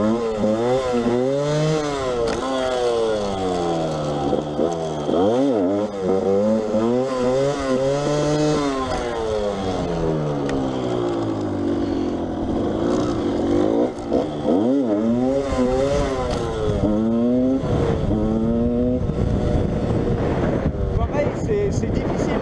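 A Yamaha 125 DTR two-stroke enduro motorcycle revs hard while doing a wheelie, its buzzing engine rising and falling over repeated throttle pulls, with wind noise and a little talk mixed in.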